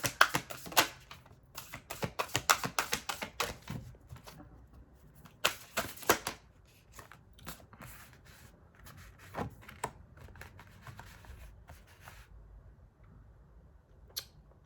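Tarot cards are shuffled up close, giving a dense run of papery riffling and flicking at first, then lighter scattered card taps and slides.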